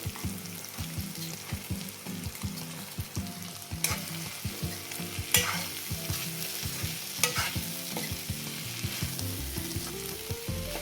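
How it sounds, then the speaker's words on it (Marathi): Crushed green peas go into hot masala for a green pea amti and are stirred. A steady close sizzle runs throughout, broken by regular scraping stir strokes in the pan, with no voices. "यामध्ये आपण हे वाटाणे क्रश केलेले ते टाकते"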